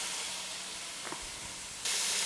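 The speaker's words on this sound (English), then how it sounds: "let it sear on that side undisturbed for a couple of minutes" Beef tips sear undisturbed in a pan, a steady close hiss of sizzling fat that suddenly grows louder and brighter near the end, with a faint thump midway and no voices.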